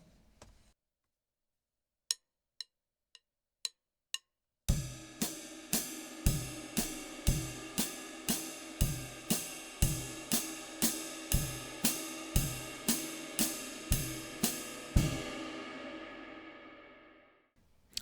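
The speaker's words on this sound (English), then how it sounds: "With the ride symbol, we can do a similar thing. We can play just quarter notes" A jazz ride cymbal rings out in steady quarter notes in an odd time signature, each stroke bright and shimmering, after a few sparse stick clicks count in; the wash decays at the end.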